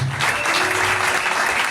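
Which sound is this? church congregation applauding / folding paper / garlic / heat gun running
church congregation applauding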